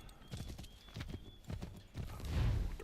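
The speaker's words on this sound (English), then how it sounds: "Horse." Horse hooves clip-clop in a brisk, uneven rhythm, close by, followed by a short whinny from the horse, in the video game Assassin's Creed 3.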